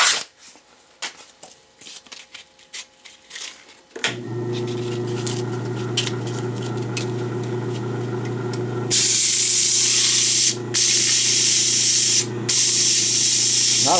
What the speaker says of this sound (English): Not a whole lot of power in this motor. You can hear it laboring